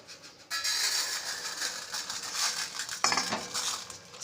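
Sugar going into a pan for caramelizing: a burst of metallic clinks and scraping as a spoon taps against the pan, first at half a second and again near the three-second mark, with no talking.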